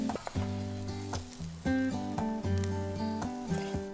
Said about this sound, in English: Fry the pork.